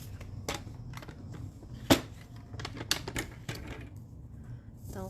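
Cardboard being cut for a handmade card gives a run of crisp, close clicks and snips in an irregular rhythm, with a couple of louder sharp cuts and a quieter stretch near the end.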